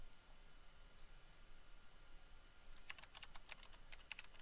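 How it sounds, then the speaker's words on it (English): Quiet, rapid clatter of someone typing on a computer keyboard begins partway through, a burst of uneven keystrokes over a faint hiss, with a couple of brief high electronic tones earlier. "someone is randomly typing on a keyboard while I am doing Robocop things"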